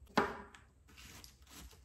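A knife cutting finely sliced green or red cabbage on a board: one crisp chop near the start, then fainter scraping, quiet strokes.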